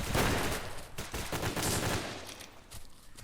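A Spaz 12 pump-action shotgun firing in the BRAIN / OUT shooter game, several sharp blasts in quick succession at close range, fading into quieter tail noise.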